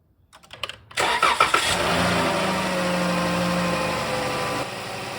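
A Chrysler Town & Country engine, after ignition coil and spark plug replacement for a misfire, cranks briefly, catches and revs up, then settles into a steady, smooth idle nearby.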